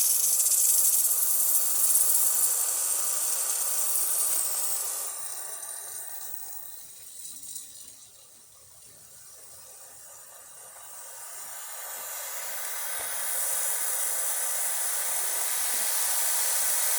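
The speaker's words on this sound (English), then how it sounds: "It's steaming crazy" The steam wand of a Breville Barista espresso machine releases a loud, steady hiss that dips quieter midway, then builds back to full strength for the rest of the time.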